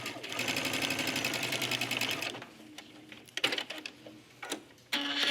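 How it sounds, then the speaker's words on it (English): A sewing machine runs fast and steady as it stitches a quarter-inch seam in trench coat jacket lining, then slows into short bursts and pauses, with someone talking over parts of it. "So with right sides together, just going to do a 1/4 of an inch stitch."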